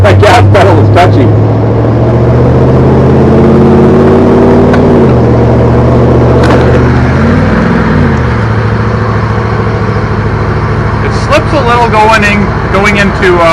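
A 1958 Plymouth Suburban two-door wagon engine accelerates with a steady, loud drone close by. Its pitch climbs, drops briefly as the gears shift around the middle, then settles into a sustained hum.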